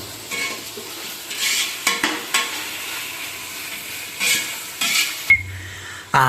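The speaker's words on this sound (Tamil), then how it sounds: "தக்காளி ஆட் பண்ணி நல்லா வதக்கணும்" Tomatoes sauté in a pan for chicken biryani, giving a steady sizzle while a spoon scrapes and stirs in repeated strokes against the metal, heard up close with no voices.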